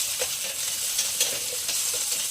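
Onion, ginger-garlic paste and green chillies sizzle steadily in hot oil in a pan, a continuous close hiss with small crackles and occasional stirring clicks, no voices.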